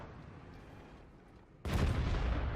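A tank gun fires in World of Tanks with a sudden, loud, close boom after a quiet stretch of low engine rumble, the blast ringing out broadly before starting to fade.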